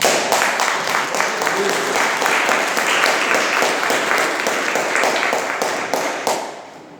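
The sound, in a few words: congregation applauding loudly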